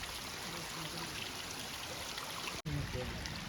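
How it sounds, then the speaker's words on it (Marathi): Monsoon waterfall at Visapur fort on a hillside trek, a steady broadband rush of falling water filling the whole stretch at close range, with a faint voice briefly audible under it. "मित्रांनो हा धबधबा इथून पाणी पडतं"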